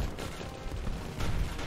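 Gunfire in the Steampunk Tower 2 tower-defense game: a steady, dense rattle of shots under continuous battle noise, swelling louder toward the end, with no talk.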